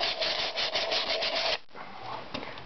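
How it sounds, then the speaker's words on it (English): Sandpaper of 180 grit rubs rust from inside a seized V6 engine cylinder with quick, close back-and-forth scraping strokes, pausing briefly before resuming more softly. "just going to sand the rust out of the cylinder with 180 grit sandpaper"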